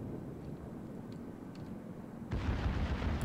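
Warship guns in the World of Warships video game, aboard a battle with an American Clemson class destroyer, letting off a sudden deep booming blast that rolls on as a rumble after a low murmuring background.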